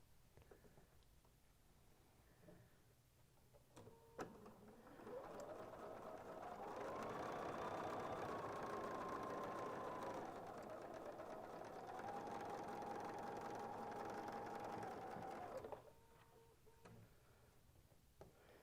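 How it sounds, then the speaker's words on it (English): A sewing machine stitching quarter-inch seams on a quilt block, a steady close mechanical whir that starts, runs for about ten seconds with a slight change in speed, then stops, with quiet handling noises before and after. "So I'm going to sit down and sew on either side of the line 1/4 of an inch."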